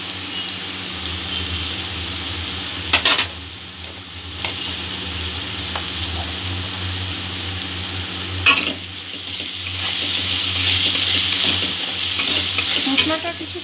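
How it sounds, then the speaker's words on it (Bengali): Ground cumin, coriander and chili powder fry in oil in a pan, giving a steady close sizzle throughout with scraping stirs and a few sharp clanks of the spoon against the metal. "মশলাটা কিছুক্ষণ কষিয়ে নেব।"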